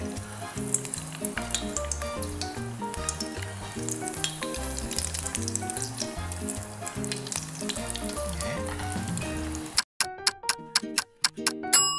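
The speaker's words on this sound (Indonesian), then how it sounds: "nampaknya gorengan kita sudah pun hampir masak" Sesame-coated kue bom balls fry in hot oil over a low but hot flame, giving a continuous bubbling sizzle with tonal music underneath, then a few sharp ticking clicks near the end.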